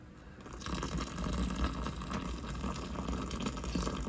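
Steady rushing of water poured over a toy car casting, a continuous splashing gush that holds fairly even throughout.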